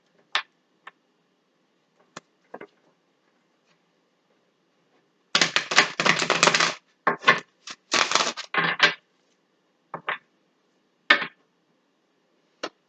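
Tarot cards are shuffled in a quick riffle burst, followed by several short flicking and tapping sounds, with sparse clicks before and after in a quiet room.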